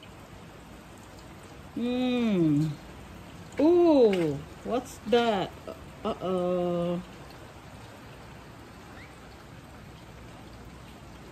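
Steady rain falls on a rainy day at a home garden, a soft continuous hiss running throughout while a person speaks briefly over it.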